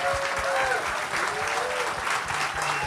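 A live audience at a talk event applauds, dense continuous clapping from a large crowd, loud and sustained, with a few faint voices mixed into the applause.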